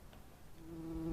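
Flies buzzing over a corpse: a faint, steady droning hum rises partway through and grows slightly louder toward the end, with no voices.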